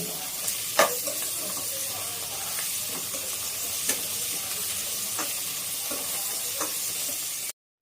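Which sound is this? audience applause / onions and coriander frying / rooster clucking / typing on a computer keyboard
onions and coriander frying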